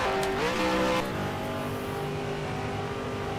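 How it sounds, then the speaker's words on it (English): A race car engine from a racing video game sound pack roars at a superspeedway, holding a loud steady drone whose pitch dips once early and then settles into a sustained high-speed note. "a very, very cool sound pack, very realistic, much like the other ones, but just different, from a different generation and from a different car"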